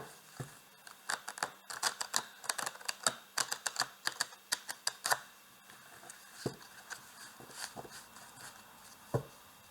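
Zodiac tarot cards shuffled by hand close up, a rapid series of crisp flicking slaps in quick bursts that slow and thin out toward the end, with no speech.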